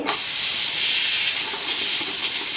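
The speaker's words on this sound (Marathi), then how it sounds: "आता मी याची जी वाफ आहे ती काढून घेते" A loud, steady hiss of steam escaping from a pressure cooker of mutton curry after four whistles starts abruptly and continues unbroken, close by.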